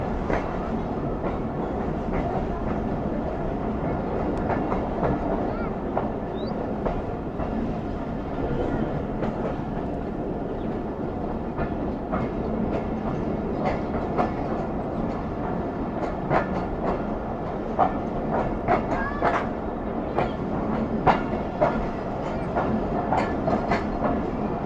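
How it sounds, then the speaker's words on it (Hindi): A passenger train rolls through dense winter fog near Mohenjo-daro, with a continuous rumble and rhythmic clickety-clack of wheels on rail joints heard from on board, faint voices now and then underneath. "काफ़ी देर बाद गली मोहल्ले से निकली है ट्रेन"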